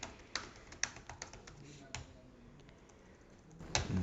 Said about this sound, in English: He now randomly taps his keyboard as if he's doing something.